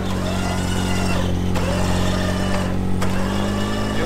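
A vehicle engine runs under light throttle while it is towed out of a deep hole, giving a steady, close, droning hum with slight swells in pitch and no talk.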